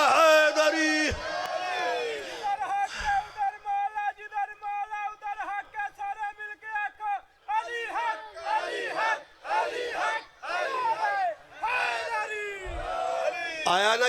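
A large crowd at a Shia religious gathering in Syed Wala shouts the slogan Nara-e-Haidari in loud, repeated bursts of massed voices, answering a leader's call with rhythmic waves of chanting that fill the space.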